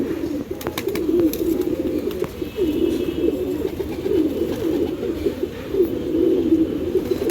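Pigeons coo steadily and close by in a dense, overlapping chorus as they drink jaggery water, their throaty rolling calls pulsing continuously with faint clicks and rustles around them.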